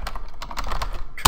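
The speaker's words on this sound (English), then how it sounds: "I don't know, the typing too hard." Fast, hard typing on a computer keyboard, with rapid clacking keystrokes in an uneven rhythm close to the mic, ending in a sharp louder slam on the keys.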